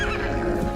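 A horse gives a loud, close neigh, a brief strained whinny filling the whole moment.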